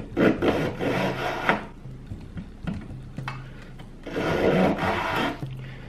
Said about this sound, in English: So now I'm just gonna take my tiny little saw here, and I am just going to try to cut that out.